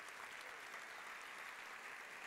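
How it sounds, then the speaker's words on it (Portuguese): Applause from a church congregation fills the space, a dense, even clatter of many hands clapping continuously at a faint level with no voices over it. "Aplauda bem forte a palavra do Senhor."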